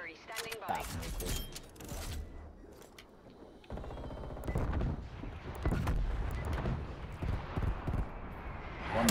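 Artillery strike in the shooter game Call of Duty Cold War: a barrage of loud, rumbling blasts and gunfire bursts rolling through the whole stretch, dense and close, with game voices talking over it.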